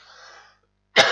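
A single sharp cough bursts out near the end, loud and close, after a brief stretch of soft breathy sound and silence.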